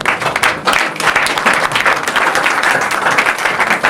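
A church congregation applauding together, a loud, steady wash of clapping that fills the whole four seconds without a break.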